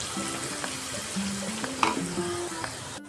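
Onion softening and turning golden while frying in a pan with a pinch of salt; a steady close sizzle runs throughout, with a few light scraping and stirring taps.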